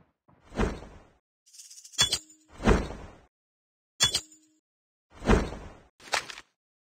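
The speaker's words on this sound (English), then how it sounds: "Flashbang grenade. Proceed with caution." Flashbang grenades going off in a video game: several sharp bursts with whooshing decays, alternating with bright metallic clicks and pings, each separated by silence.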